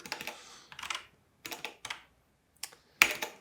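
Quick bursts of typing on a computer keyboard, a few clustered keystroke runs separated by short pauses, close and fairly quiet with no talking.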